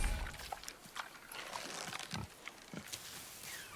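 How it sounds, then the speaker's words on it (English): Wild boar in the God of War game grunting and snorting in short, irregular bursts over a low rumbling ambience, fairly close and moderately loud. "Wild boar's hide is thick."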